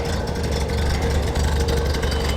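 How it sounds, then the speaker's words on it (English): A late rubber-bumper MGB GT with its B Series 1800 engine running at a classic car show, a loud, steady, close engine note holding without a break and with no talk over it. "Very distinctive sound from that B Series 1800 engine."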